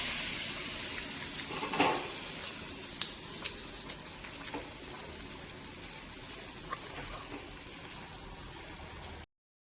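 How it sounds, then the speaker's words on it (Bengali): Tomato egg paratha frying in hot oil gives a steady, close sizzle throughout, with a few brief clinks and spatters near the start and no talking. "এটাকে তেলের ভিতরে দিয়ে দিতে হবে।"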